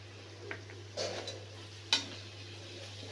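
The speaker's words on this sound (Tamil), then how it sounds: "இது எண்ணெய் பிரிஞ்சு வர வரைக்கும் நல்லா வதக்கலாம்" Tomatoes and biryani masala sauté in oil for mutton biryani, giving a faint low sizzle under a steady hum, with a few soft spoon scrapes and one sharp clink against the pan.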